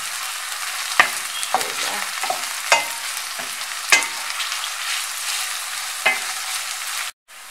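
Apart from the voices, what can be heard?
green peppers being sautéed and stirred in a pan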